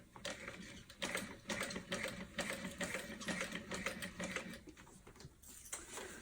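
A sewing machine stitches a bowler bag, running in steady bursts of rapid mechanical clatter with short pauses as the fabric is turned, close and fairly loud throughout.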